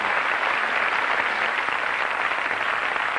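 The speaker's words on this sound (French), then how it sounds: "Je voudrais qu'on les applaudisse, s'il vous plaît, une dernière fois" Studio audience applauding at a French television talk show, a steady dense wash of clapping that holds at an even level throughout, with no voices rising above it.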